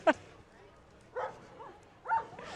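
Dogs at the Chilliwack Rotary Christmas Parade give three short, sharp barks or yips spaced about a second apart, over a low hum of street crowd noise.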